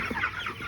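Broiler meat chickens a little over five weeks old cluck briefly on pasture, a couple of soft, close calls over a steady outdoor background.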